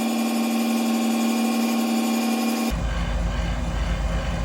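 A grinder runs a Scotch-Brite belt or pad against the bevel of a forged chef knife, giving a steady loud machine whine that shifts to a rougher, broadband grinding rush partway through as the blade is pressed in.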